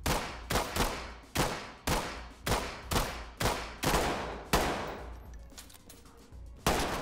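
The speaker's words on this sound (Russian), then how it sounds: "Откуда стрельба?" Bursts of gunfire in the video game Ready or Not crack out in a rapid irregular series, loud and close, each shot leaving a short echoing tail, with a final burst after a lull.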